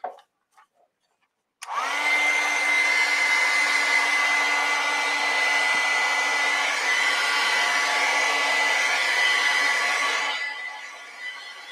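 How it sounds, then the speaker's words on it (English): A handheld heat gun blows steadily over wet acrylic paint, starting abruptly after a few faint taps and holding an even, loud whirring rush with a faint whine for about nine seconds before cutting off. "So get my heat gun out."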